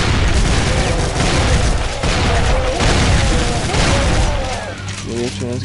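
Shotgun fire in the Brutal Doom video game comes as a dense, loud barrage of booming blasts and mechanical clatter, layered with game sounds and a voice talking over it.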